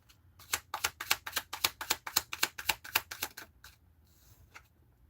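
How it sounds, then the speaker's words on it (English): A deck of cards is riffle-shuffled, giving a fast, even run of about sixteen crisp flicks close up that stops abruptly, followed by quiet. "Shuffle."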